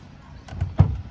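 A 1997 Ford plow truck's door, lifted on its sagging hinges, gives a short creak, then a solid metallic thunk, brief and close.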